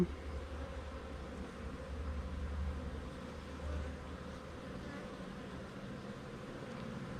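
Bees hum around hive frames during a September queen replacement, giving a low, steady buzzing drone that persists throughout at a moderate distance with no talking.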